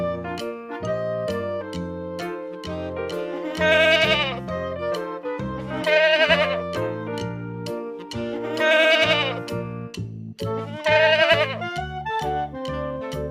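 Goat kid bleats ring out four times at steady intervals over a bouncy, upbeat Bengali alphabet children's tune.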